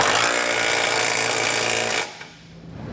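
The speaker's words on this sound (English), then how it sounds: "For the big bolt, I'm going to use a 15/16 size socket" A power tool with a 15/16 socket snugs down trailer hitch bolts on a 2021 Ford Explorer, running in one loud continuous burst for two seconds before cutting off abruptly, close up.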